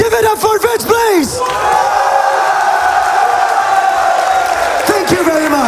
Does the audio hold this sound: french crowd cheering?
yes